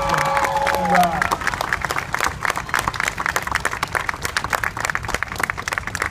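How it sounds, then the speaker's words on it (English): A crowd at a Marine Corps recruit depot ceremony breaks into sustained applause for veterans. A brief voice trails off at the start, then dense, steady clapping from many hands carries on with some cheering mixed in. "please join me in a round of applause to thank these veterans"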